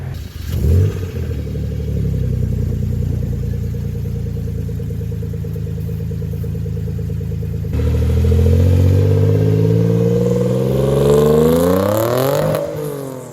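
A factory Nissan VQ37 V6 with an AAM twin turbo kit revs loud and close. It holds a steady high idle, then climbs through several strong rising revs before a sharp cutoff.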